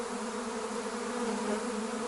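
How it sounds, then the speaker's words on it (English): A large swarm of honey bees buzzing close by, a dense steady drone with a strong hum that holds unbroken throughout. "When they're swarming, they're pretty much single-minded."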